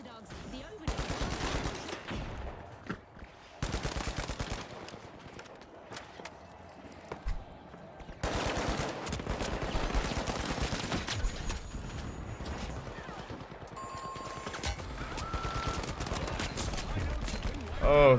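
Rapid bursts of gunfire from a first-person shooter video game, sharp volleys repeating through the clip with a loud final burst, mixed with game effects.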